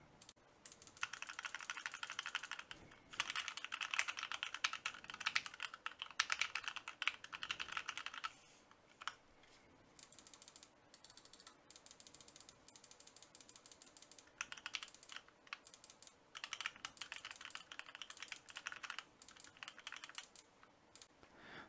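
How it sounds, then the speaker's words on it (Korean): Computer keyboard typing and mouse button clicks recorded through an EPOS H3 headset microphone, bursts of rapid clattering keystrokes separated by short pauses, close and crisp with no speech. "키보드와 마우스 버튼을 클릭해 보겠습니다."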